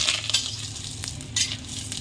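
Whole spices sizzle in hot oil for tempering: black and green cardamom, nutmeg, mace, cloves, cinnamon, bay leaf and dried red chilli. A steady close frying hiss with a few stirring scrapes and brief flare-ups, no voices.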